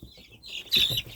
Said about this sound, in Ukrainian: Такі курчатка вже, бачите.